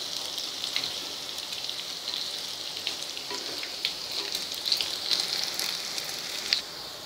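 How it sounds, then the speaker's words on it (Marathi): Coriander and pearl millet muthiya sauté in a pan, a steady bright sizzle with crackling pops and no talking. "हे मिनिटभर छान असे आपल्याला याच्यात परतवून घ्यायचे"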